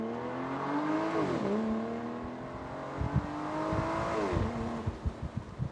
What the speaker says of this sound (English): put the top down, put it in sport mode, pull out somewhere